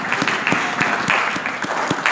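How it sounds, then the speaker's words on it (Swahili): A church congregation claps together in a dense, steady burst of applause, many hands close and loud throughout, with no voices standing out. "Let's clap for the word of God."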